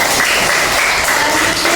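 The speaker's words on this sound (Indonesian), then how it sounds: "Tepuk tangan bagi selanjutnya" Students in a Christian religious education classroom in Indonesia clap together in a steady, dense burst of applause that fills the whole moment at a fairly loud level, with no talk over it.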